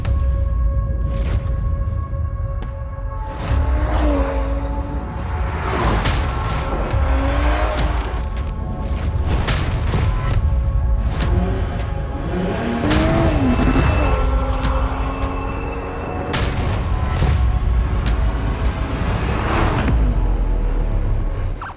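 A BMW M240i drives hard, its engine note rising and falling through gear changes with occasional tire squeal, loud and continuous throughout, with no talking.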